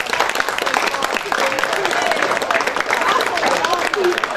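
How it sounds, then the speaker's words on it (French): A hall audience of older people at a Saint Nicholas celebration applauds steadily, a dense wash of clapping with faint voices mixed in throughout. "Et vous pouvez l'applaudir à tout rond, car elle le mérite."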